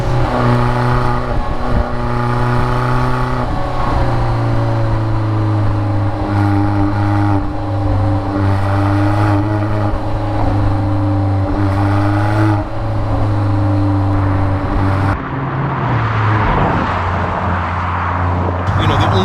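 Alfa Romeo 4C Spyder engine while driving, a loud, steady droning hum with shifting tonal layers and occasional revving swells, close in the cabin, with someone talking over it throughout.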